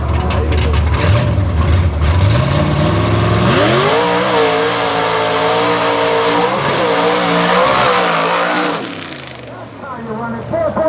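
A nitrous-fed drag race car at the Fastest of The Fast Hill & Hole event in 2019 roars off the line, its engine loud and sustained with rising revs for about nine seconds before fading, crowd and track noise behind it.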